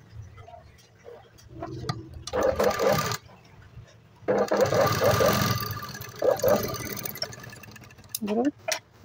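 A sewing machine runs three-thread stitching to join a gathered frill panel onto fabric, its motor whirring in two sustained bursts with a shorter run near the end, broken by quieter handling sounds.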